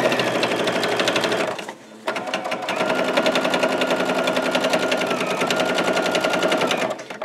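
A sewing machine runs a tight 2.5-length stitch along a T-shirt quilt seam, a dense, steady mechanical rattle that stops briefly and then resumes, close and continuous.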